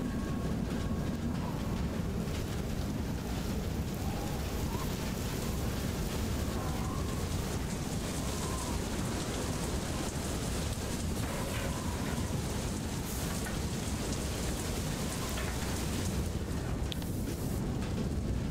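Steady rainfall in the game Far: Lone Sails, a dense continuous wash of patter that holds at a constant level throughout with no talking over it.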